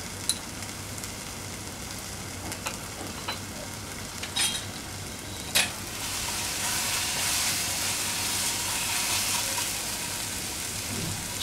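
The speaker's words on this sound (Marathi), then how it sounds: "छान आपल्याला याच्यात अजून छान गुलाबी रंग येईपर्यंत आपण परतणार आहोत कांदा, आणि मग आलं लसूणचं पण कच्चेपणा निघून राहिलेला आहे।" Onion and ginger-garlic paste sautéing in a pan for black-eyed pea usal, a soft steady sizzle with occasional spoon clicks, swelling louder and hissier in the second half, no voices.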